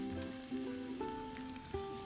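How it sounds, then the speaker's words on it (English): Ginger and garlic sauté in a pan for a meatless kung pao, giving a soft, steady sizzle with a faint tonal hum running behind it. "we add our ginger and our garlic and saute it for a couple minutes"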